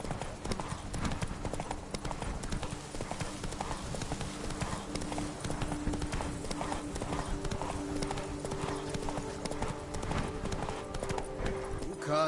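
Hooves of a horse trot in steady clip-clop rhythm in The Witcher 3 video game, close and continuous, with faint game ambience and light voice sounds underneath.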